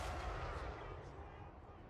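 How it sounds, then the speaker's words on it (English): Organ guns in a video game battle fire a dense, rattling volley of rapid overlapping booms, heard faintly and without pause for two seconds. "Oh, the organ guns are so good."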